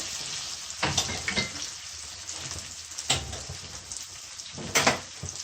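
Carrots, tomatoes and peppers fry in a pan with a steady close sizzle, broken by a few louder bursts of stirring and spatula scrapes.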